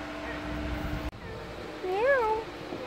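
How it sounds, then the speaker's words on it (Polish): Cat giving a single clear rising-and-falling meow up close, following a steady background hum cut by a brief click. "Kaciu."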